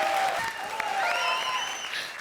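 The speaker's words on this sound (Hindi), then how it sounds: "थैंक यू अरबाज के लिए ताली बजाई।" A studio audience on a comedy show breaks into loud, sustained applause for a guest, with whoops and musical tones rising over the clapping.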